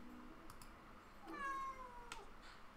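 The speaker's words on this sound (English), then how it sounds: "Meow, the cat wants something." A house cat lets out a single drawn-out meow midway, faint and somewhat distant, with light clicks and tapping like a keyboard scattered around it in a quiet room.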